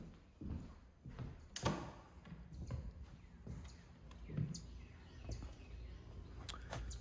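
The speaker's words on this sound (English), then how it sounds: "You hear the birds, and that's about it." Scattered bird chirps drift through a quiet suburban backyard in Sandy Springs, faint and intermittent over a low, steady outdoor hush with occasional soft knocks.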